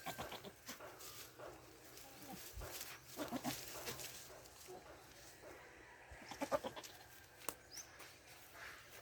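Goats bleat repeatedly on a farm where they are bred, some calls near and others farther off, scattered over faint background noise with bursts of other animal sounds.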